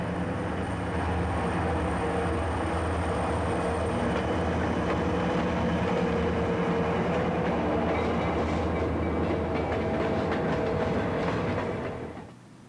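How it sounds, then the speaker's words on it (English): A southbound Idaho Northern and Pacific freight train rumbles steadily past on the Cascade Branch tracks, with a continuous heavy roar and rattling wheels that fades out at the very end. "our southbound Emmett train is making good time on its journey"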